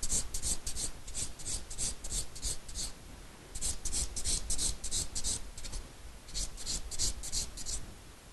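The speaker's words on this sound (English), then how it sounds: "Now we are going to buff the nails using a clean finish buffer." A clean finish buffer rubbed over sculptured acrylic nails in a salon, producing quick rhythmic bursts of fine rasping strokes in close succession, with a short pause midway and again near the end.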